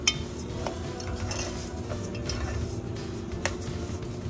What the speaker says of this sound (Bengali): আমরা মুগ ডালটাকে অনবরত ভাজছি নাড়া দিচ্ছি না হলে আবার এটা পুড়ে যেতে পারে